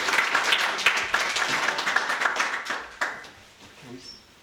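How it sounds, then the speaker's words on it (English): An audience clapping in a round of applause at a community talk, a dense patter of hands for about three seconds that quickly fades to quiet. "Let's give her a round of applause"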